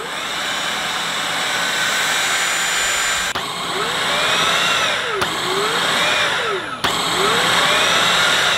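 An LG CordZero A9 cordless vacuum cleaner with its head attached runs at a loud, steady whine, cutting out briefly three times and restarting, with a rising and falling tonal sweep as the motor spins up again.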